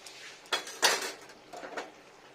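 A plate being rinsed and handled at a kitchen sink, with a few quick clattering knocks of crockery and cutlery and a brief wash of splashing water, fairly close and without talk.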